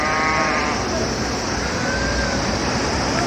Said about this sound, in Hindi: पहाड़ों से छिपी हुई भेड़े जो सीटी की आवाज से उतर के खुद ही दौड़ी चली आ रही हैं।